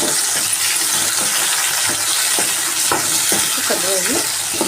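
Chopped tomatoes frying in hot oil for a kaju mutton curry, a steady broad sizzle running throughout with occasional stirring clinks and scrapes, close and fairly loud.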